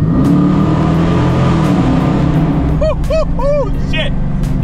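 Dodge Challenger RT accelerating, a loud steady exhaust roar from inside the car while voices talk over it.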